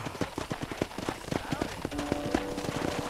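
Horse hooves clip-clop in a steady, fairly quick rhythm in the Red Dead Redemption video game, loud and close, with a voice talking over them and a sustained tone entering toward the end.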